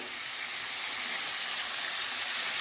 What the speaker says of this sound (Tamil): கடுகு பொரிஞ்சதும் வெங்காய தக்காளி போட்டு நல்லா கொஞ்சம் வதக்கி விட்டுருங்க